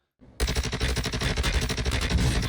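Rapid automatic gunfire from the Warzone 2 video game bursts in after a brief quiet start, a dense continuous stream of loud close shots that fills the rest of the clip.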